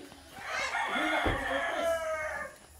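A rooster crows on a farm, one full drawn-out call rising and falling, clear and fairly near, with faint background murmur.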